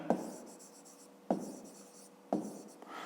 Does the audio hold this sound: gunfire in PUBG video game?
no